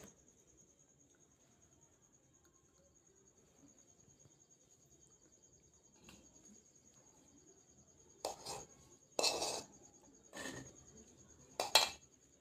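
Scissors cutting fabric for a blouse katori, a few crisp snips late in the clip, close and moderately loud against a quiet room with a faint steady whine.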